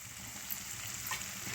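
Curry leaves hiss and sizzle in hot oil tempering alongside green chillies and onions, a steady, fairly quiet frying crackle with no voices.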